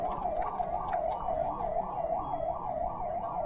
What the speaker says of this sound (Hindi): एक बार ये एम्बुलेंस को रास्ता दे दीजिए सब लोग।